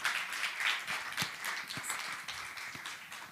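An audience at a startup demo day gives a team a round of applause, a soft, steady patter of many hands heard from a distance with a few sharper claps standing out.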